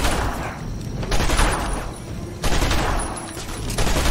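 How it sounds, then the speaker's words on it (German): Bursts of video game gunfire in Batman: Arkham Asylum, with dense, loud volleys arriving in several waves across a few seconds and no talking over them. "Ich weiß gar nicht, wer geschossen hat und warum!"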